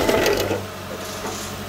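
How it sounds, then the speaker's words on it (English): A 2013 Dodge Dart's starter motor, fed direct power, cranks with a rapid whirring chatter that is loudest at first and then settles into a steady mechanical drone. "Now I'm going to provide my own power to the starter."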